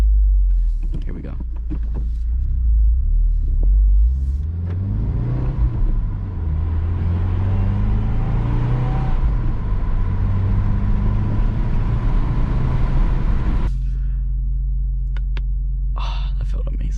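The engine of a new car accelerates and revs, its droning pitch sweeping upward through the gears over a loud, steady rumble inside the cabin before a gear change drops the tone, while people speak over it.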